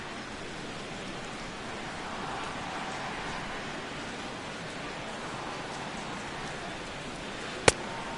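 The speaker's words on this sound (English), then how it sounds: "Well, Matt, the rain is really starting to come down" Steady rain pours down during a baseball video game broadcast, a continuous broadband hiss holding at an even level throughout, with one sharp click near the end.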